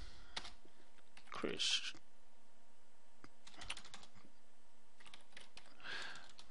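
Keys clatter in short bursts on a computer keyboard while a Linux command is typed, with someone speaking between and over the clicks up close.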